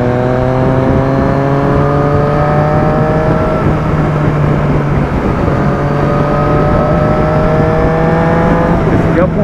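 A motorcycle engine revving near 13,000 to 14,000 rpm drones steadily with rising harmonic pitch, loud and close, heard from onboard on a highway near Curitiba, with faint voice underneath.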